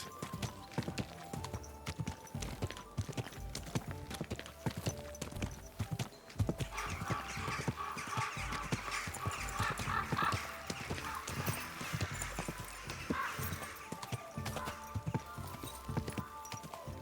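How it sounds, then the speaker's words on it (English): Steady clip-clop of horse hooves on a hard surface in the video game Kingdom Come: Deliverance II for a long stretch, with a horse whinnying now and then and faint talk in the background. "Easy, good horse."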